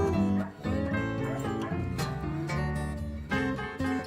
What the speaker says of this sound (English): They tried to make the dog bark sound bluesy.